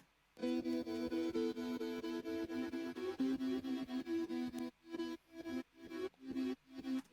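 A bright synth melody plays steady chords with a constant, unpumped level, then shifts into choppier, gated stabs with brief gaps between notes.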